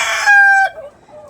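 A single white layer hen in a crowded poultry house gives one loud, close, drawn-out squawking call that trails off into softer clucks.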